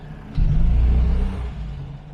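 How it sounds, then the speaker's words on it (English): A Morris 1300 car engine, just back on the road after a barn find, revs up briefly with the throttle, then settles back to a low idle, heard close and alone. "give a little bit of throttle, release the handbrake."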